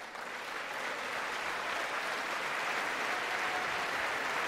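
A large audience at the State of the Union applauds, a dense, even roar of clapping that holds steady and slowly swells over several seconds, with no individual voice standing out.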